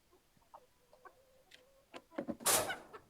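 Soft, scattered clucks from chickens, including Silkies, and a rooster in a coop, quiet at first, then a louder burst of squawking near the end.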